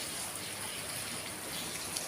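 Soft, steady rain hisses in a continuous wash of noise, fairly quiet and even throughout with no voices.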